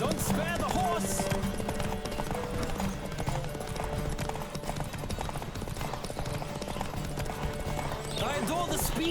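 A horse in The Witcher 3 gallops with rapid, rhythmic hoofbeats throughout, close and continuous, while voices talk over the clatter.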